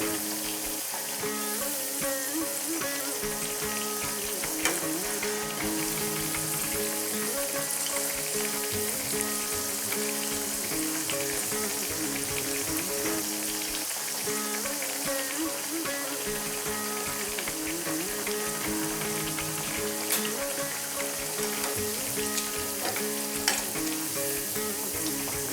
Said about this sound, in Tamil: இது பொன்னிறமாக வரைக்கும் பொரிச்சு எடுத்துடலாம்.